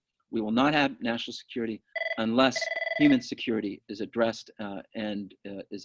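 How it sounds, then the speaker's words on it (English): A telephone rings with a steady electronic tone for about a second, partly under a speaker's continuous talk during a community talk on COVID-19. "sorry for the phone"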